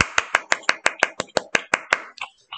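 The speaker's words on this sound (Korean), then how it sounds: "박수." A small group of people, likely students ending a class, give a short burst of applause, about a dozen sharp, evenly spaced claps close by that trail off into a few scattered ones.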